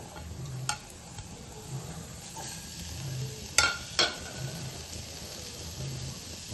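Amla being stirred in a steel pot over a low gas flame, with faint scraping and soft sizzling throughout and a few sharp metallic clinks of the spoon against the pot.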